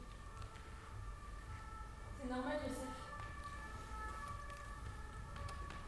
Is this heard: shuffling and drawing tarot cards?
no